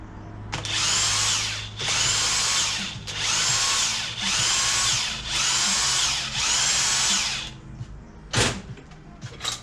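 A power tool unscrews bolts from an engine during a teardown, running in six steady whirring bursts of about a second each, each separated by a brief pause, loud and close, ending with a clank.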